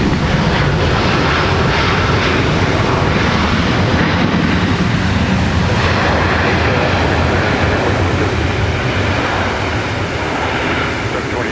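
A SkyWest airliner takes off from MSP runway 30 right, a loud continuous broadband engine roar holding steady for the full stretch.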